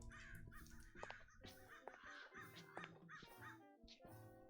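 Crows caw repeatedly in a survival video game set in a wasteland, harsh calls overlapping through a busy in-game soundscape with layered tones, staying fairly constant and loud throughout.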